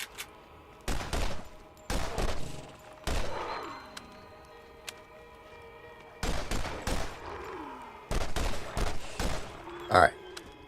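Pistol gunfire in the video game Borderlands, a handful of separate loud shots and short bursts at uneven intervals, with speech between them.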